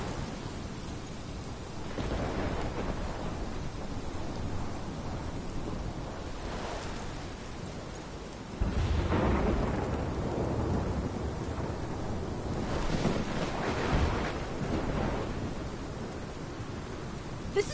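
Thunderstorm in the video game Life is Strange, with steady heavy rain and wind under rolling rumbles of thunder that swell at several points, the loudest crash near the middle, with no talking.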